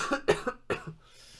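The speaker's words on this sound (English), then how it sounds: "Sorry, I need to cough." A few close coughs in quick succession, sharp bursts followed by a short throaty trailing sound, then quiet.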